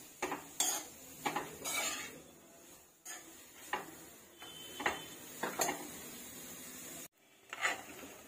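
Grated carrot being stirred in ghee in a pan for carrot halwa, heard as a close, quiet series of irregular spoon scrapes and clinks against the metal with short pauses between strokes, no voices.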